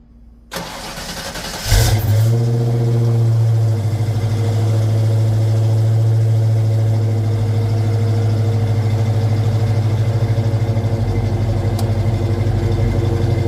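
A 1986 Ford Mustang GT Foxbody with Flowmaster mufflers cranks briefly and fires up, then settles into a loud, steady, deep burbling idle close by.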